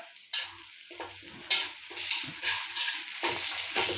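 Sautéing in a pan for a mutton dish of goat suvarotti (spleen), with a spatula stirring and scraping through steady oil sizzle, several sharp clatters near the start and mid-way, close and fairly loud with no talk.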